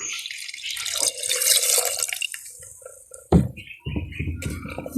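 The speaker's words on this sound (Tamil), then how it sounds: "நாங்கள் எடுத்து வச்ச மிச்ச தேங்காய் பாலை விடுவோம்" Coconut milk poured into a pot of boiling cough-remedy porridge, heard as close liquid splashing and trickling in uneven bursts with short pauses, no talk.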